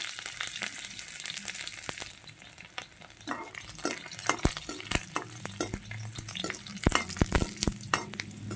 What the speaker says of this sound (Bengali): আর এদিকে আমি কড়াইয়ে একটু তেল বসিয়ে দিয়েছি দিয়ে দেব গোটা গোটা একটা রসুন পুরো এটাকে একটু ভেজে নেব হালকা করে